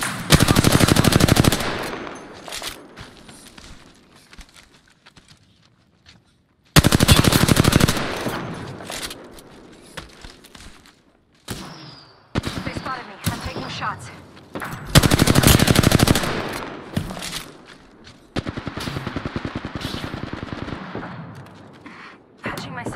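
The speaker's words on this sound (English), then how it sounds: "The enemies are shooting at me." Bursts of automatic weapon fire from enemies in the battle royale video game Apex Legends, loud rapid volleys in long stretches separated by quieter gaps with other game sounds and voices.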